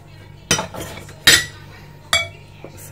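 A utensil mixes ground seeds and spices in a bowl, producing three sharp clinking scrapes spaced about a second apart with a faint tap near the end, close and otherwise quiet.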